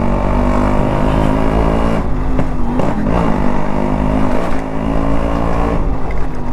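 Yamaha RX135 four-speed two-stroke motorcycle engine revving close by, a loud buzzing drone with throttle blips around the middle and steady idle-to-rev pulses throughout.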